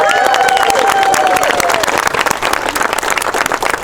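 A parkrun crowd gathered for the pre-run briefing cheers and claps loudly for newcomers, a dense burst of shouts and applause that fades slightly toward the end.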